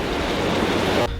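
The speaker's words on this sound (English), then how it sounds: "we're gonna let those jets run for about 5 to 10 minutes to kind of dissolve and mix everything up" Hot tub jets run to dissolve and mix freshly added water chemicals, giving a steady, loud broadband rush of churning water that holds evenly for about a second and then drops off abruptly near the end.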